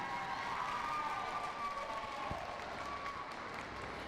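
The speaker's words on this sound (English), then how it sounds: "While we're waiting, put your hands together." Audience applause at netball junior nationals finals, a faint, steady patter of clapping and crowd noise heard from a distance in a large indoor venue.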